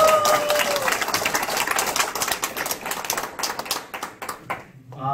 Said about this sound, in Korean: 네, 박수 치시면 다 같이